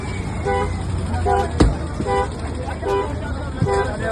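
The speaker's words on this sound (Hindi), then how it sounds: "इसके बाद एसयूवी का अलार्म भी आप सुन सकते हैं" A Mahindra Thar SUV alarm sounds in repeated short, honking tones roughly every second, with traffic and engine noise around it.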